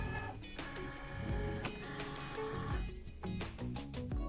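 A Cricut cutting machine loads a mat with a steady mechanical motor whirr punctuated by clicks and rising stepped tones, close and fairly quiet, with no talking.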